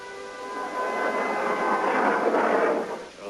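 Air raid sirens in a film, a rising and wavering mechanical wail that swells over a few seconds and then fades, heard alone at moderate distance.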